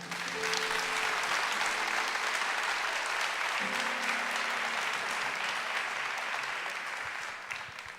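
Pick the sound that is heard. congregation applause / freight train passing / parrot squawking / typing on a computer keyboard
congregation applause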